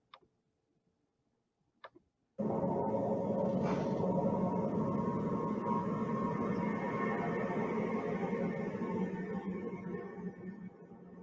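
Jupiter's frequencies converted into sound: after a couple of faint clicks and near silence, a dense, buzzing, rumbling drone starts abruptly and holds steady, soft and continuous to the end.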